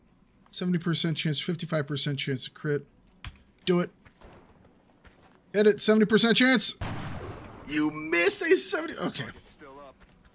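In XCOM: Enemy Unknown, a soldier fires a shot: a short, sharp blast with a noisy tail cuts in partway through. Steady talking surrounds it, with a person speaking before and after the shot.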